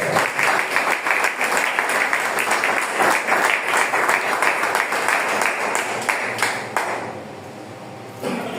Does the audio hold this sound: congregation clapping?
yes